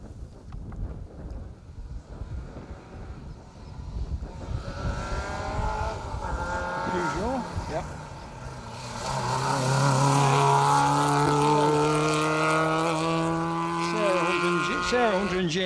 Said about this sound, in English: I can hear a rally car approaching us.